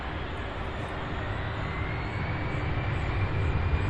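A UPS cargo plane rolls for takeoff on runway 17 left at Louisville airport, its engines making a steady, broad roar that builds slightly over a few seconds, heard at a distance with no voices.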